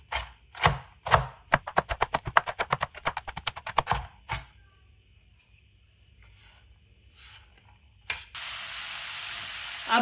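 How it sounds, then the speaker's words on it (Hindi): A knife chopping ingredients into small pieces on a board for stuffed karela: a rapid, even run of crisp taps close by, then a few spaced cuts, a quiet pause and a loud hissing burst at the end. "अब इस तरह छोटे पीस कर देंगे।"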